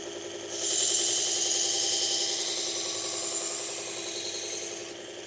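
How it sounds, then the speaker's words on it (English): A knife is sharpened freehand on a whetstone, a close, steady scraping hiss that swells in after a quiet moment, runs continuously for several seconds, then eases off near the end. "I'm making sure I'm creating a burr throughout the whole edge of the knife"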